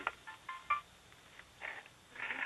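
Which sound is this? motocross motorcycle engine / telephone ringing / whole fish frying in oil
telephone ringing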